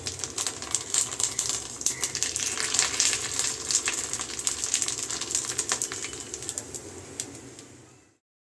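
Sago papads crackle and sizzle as they fry in very hot oil over a high flame, a dense, continuous spatter of sharp crisp pops that holds steady for several seconds and then stops abruptly, with no talking.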